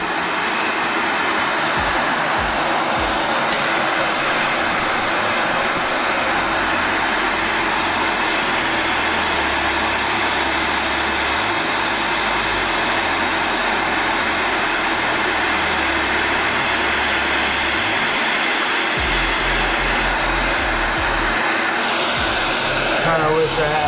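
A heat gun blasts hot air to loosen Flexwatt heat tape on a reptile breeder rack, a loud, continuous roaring whoosh close by that lasts throughout, with faint knocks and handling noises beneath it.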